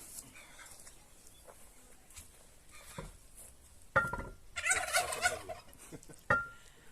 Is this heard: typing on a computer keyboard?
no